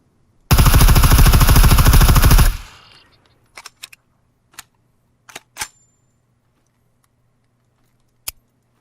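An Mk18 rifle in the video game Scum fires a rapid fully automatic burst of about two seconds, loud and close, followed by scattered faint mechanical clicks and handling sounds.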